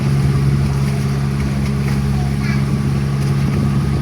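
Continuous engine drone and water rush on a boat at sea, with a steady low hum from a vessel with two large engines running alongside. A voice talks briefly under the engine noise.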